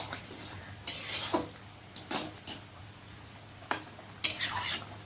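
A spoon stirs sukto vegetable curry in a pot, giving several scraping, clattering strokes against the metal over a faint sizzle, quiet and close.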